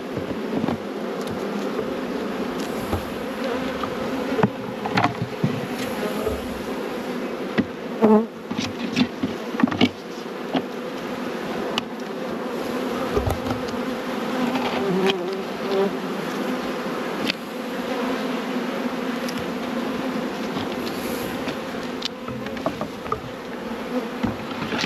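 Honeybees being shaken onto Langstroth nuc frames give off a dense, steady buzz close by for the whole stretch, with a few light knocks and no talking.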